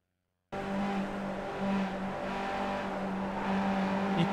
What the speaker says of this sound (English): You can hear him throttling.